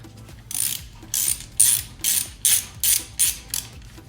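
A ratchet wrench tightening bolts during an oil change on a Yamaha Tenere 1200 motorcycle: a steady series of about eight crisp clicking strokes, close and clear, with faint background hum between them.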